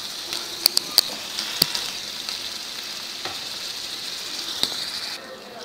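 Marinated chicken pieces and tomato hitting a hot pan for curry, a steady sizzle with a few sharp clicks and clatters of a utensil against the pan, moderately close.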